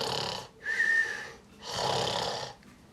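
A person imitates snoring to trigger a Snore Stopper anti-snoring device, making two long rasping breaths with a whistling edge on the first. They are close and loud, with a short pause between them.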